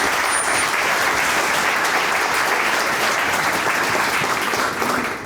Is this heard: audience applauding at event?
yes